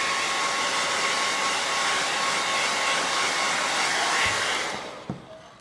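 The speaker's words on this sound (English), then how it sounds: "So it's better to just go ahead and hit the blow dryer." A blow dryer runs steadily and loudly over sawdust-thickened paint on a stenciled coffee craft piece, then is switched off near the end, followed by a couple of faint clicks.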